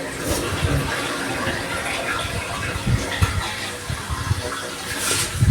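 Water runs and splashes steadily at close range, with a few louder bursts and bumps mixed in.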